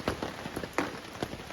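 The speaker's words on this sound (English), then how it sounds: "It has been raining pretty much all day." Steady rain patters on a campsite tent, a dense close hiss of drops with a few louder individual impacts scattered through, no voices.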